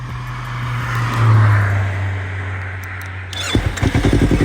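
A Yamaha R3 motorcycle hums with a steady close drone, then breaks into a quick series of sharp throttle blips near the end.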